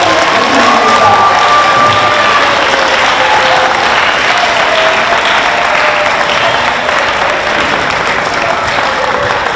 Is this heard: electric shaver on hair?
no